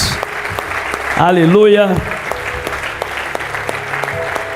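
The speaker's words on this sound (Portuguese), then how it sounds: "Dê um aplauso a Jesus por isso" A church congregation applauds in a steady, loud wash of clapping while a voice rises through it in a brief sung call.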